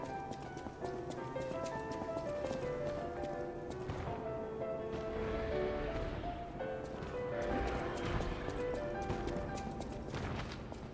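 Constant clattering footsteps from many unseen enemies in the video game Lies of P, a dense, steady patter mixed with music-like tonal layers and ambient game sound throughout.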